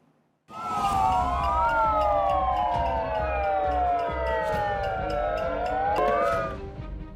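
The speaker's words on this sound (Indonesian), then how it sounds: "Mereka juga menyalakan sirine melalui pengeras suara untuk menarik perhatian." Wailing siren blasted through a loudspeaker at a street protest, sweeping up and down in overlapping tones, loud and continuous for several seconds before cutting off.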